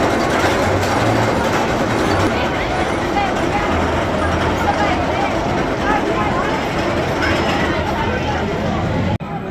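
The Twisted Cyclone roller coaster train at Six Flags Over Georgia rolls past with a continuous loud roar and rumble of wheels on track, steady throughout, with people talking over it.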